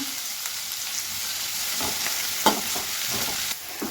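Masala dosa filling fries in a pan with a little salt. A steady, fairly loud sizzling hiss runs throughout, broken by a few light scrapes and clinks of stirring, close by and without voices.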